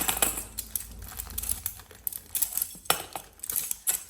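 Small magnetic building cubes are poured out of their packaging, producing a scattered run of light clicking and clattering taps, close and fairly quiet.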